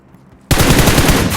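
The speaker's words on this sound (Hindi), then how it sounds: "ऊपर वाले बंदे शूट करे जा रहे हैं, गोलियां पे गोलियां चलाया जा रहा है" Gunfire in the PUBG Mobile video game: after a near-silent moment, a loud burst of rapid automatic fire erupts and continues steadily, close and dense, with no voices.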